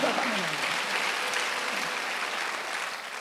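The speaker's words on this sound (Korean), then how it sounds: "박수하세요." A church congregation at a Sunday worship service claps in a steady, dense burst of applause that holds at an even level throughout, fairly close and with no voices over it.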